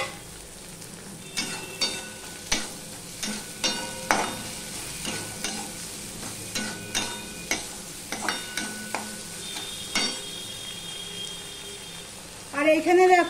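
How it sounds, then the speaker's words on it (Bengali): Chopped tomatoes go into a frying Vola fish curry, with a soft sizzle under a steady run of sharp, rhythmic spatula scrapes and knocks against the pan, ending in a louder clatter. "টমেটো কুচিগুলোও দিয়ে দিলাম।"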